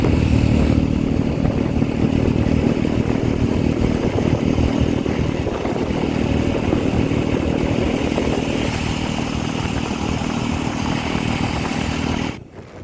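Motorbike on a road trip from Patna to Darjeeling, its engine droning steadily and loudly throughout with rushing wind and road clatter, fading out abruptly at the very end.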